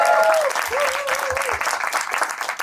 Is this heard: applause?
yes